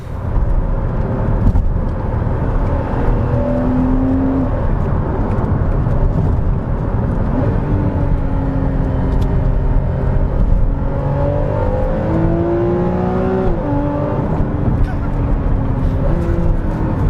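Porsche Cayman S 981 sports car on the move, a steady, loud engine drone with rising and falling tonal sweeps as it accelerates and shifts, continuous road and wind noise throughout and no talking.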